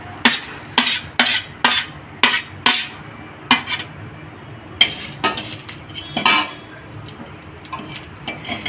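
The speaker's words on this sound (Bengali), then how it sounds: "সেই টমেটোগুলো দিয়ে দিচ্ছি।" Sliced tomatoes go into a pan with cumin and are stirred, giving sharp, regular clinks and scrapes of a utensil against the pan, close and distinct over a soft background hiss.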